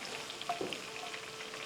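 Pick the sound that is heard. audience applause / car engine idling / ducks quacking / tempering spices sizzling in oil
tempering spices sizzling in oil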